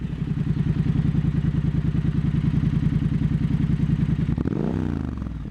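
A motorcycle cruising on new Michelin Anakee Adventure tires during a morning commute, with a steady loud engine drone and pulsing rhythm that eases off near the end.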